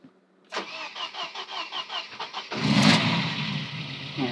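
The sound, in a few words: Mercedes 190E 2.5-16v Cosworth engine starting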